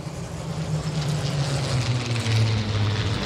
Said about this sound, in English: So 2 Spitfires flying over towards the left with Pro Stock on the start line.